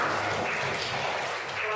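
Brief burst of classroom applause for a student group during an Islamic religious education lesson, steady dense clapping filling the short moment with faint voices mixed in.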